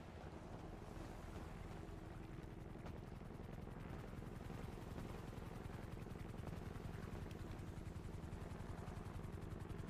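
Helicopter in a video game, a steady low rotor drone with fine rapid pulsing that holds at an even level throughout, with no voices over it.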